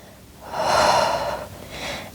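A long, breathy exhale during a Pilates flow, close and soft, followed by a shorter second breath.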